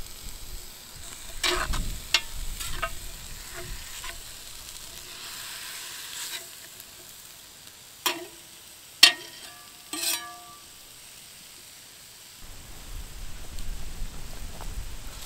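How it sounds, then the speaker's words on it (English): Ground meat sizzles and fries in a pot over a campfire as chili is made, with low continuous crackle broken by a few sharp scraping stirs of the utensil against the pot. "You need to keep stirring this meat so it doesn't stick to the bottom and burn."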